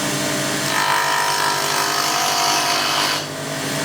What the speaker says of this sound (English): I'm going to go now onto a spindle gouge